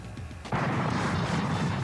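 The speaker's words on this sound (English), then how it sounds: "Black Rose features a cannon under the playfield. It's fired with a red button on the lockdown." The under-playfield cannon on a Black Rose pinball machine fires with one sudden loud boom, followed by a sustained noisy rumble.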